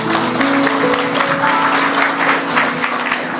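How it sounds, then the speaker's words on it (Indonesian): A church congregation claps together in a dense, loud burst of applause that fills the room evenly for a few seconds. "Kasih tepuk tangan untuk Anda sendiri."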